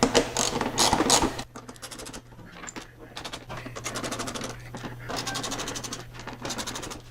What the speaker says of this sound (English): finish tightening our 3 bolts on each side. Torque these 25 to 30 inch-pounds.